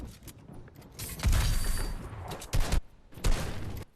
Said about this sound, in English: and then I start shooting at him.